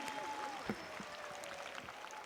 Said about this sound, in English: The thunderous applause we hear